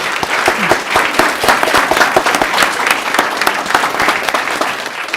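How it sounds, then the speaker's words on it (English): Sustained applause from an audience at a Peoria Board of Education meeting, many hands clapping densely and evenly, moderately loud and close, with no talk over it. "let's give her a nice round of applause"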